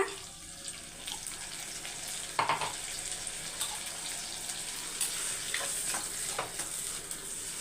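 Onions and ground tomatoes sauté in a hot pan, a steady close sizzle with occasional stirring scrapes and bursts of hissing.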